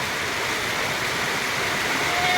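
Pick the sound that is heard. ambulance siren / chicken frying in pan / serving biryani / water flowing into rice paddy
water flowing into rice paddy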